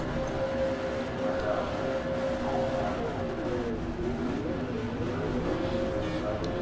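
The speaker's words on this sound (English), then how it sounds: "the revs are starting to rise" A steady V8 Supercars race engine drone with pitch lines slowly climbing and wavering, several cars idling and revving together on the starting grid under a constant roar.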